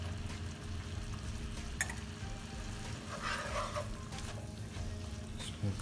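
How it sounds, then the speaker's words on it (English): Bella mushrooms sauté in butter in a pan, a close, even frying sizzle with scraping stirs of a utensil, some brighter crackling bursts midway, no voices. "Saute the mushrooms."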